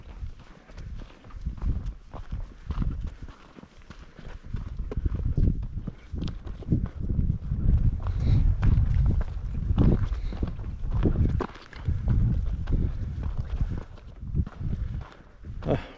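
Footsteps crunch steadily along a dry, dusty hiking trail near Quincy Lakes, Washington, a close rhythmic scuffing over wind noise with no clear talking.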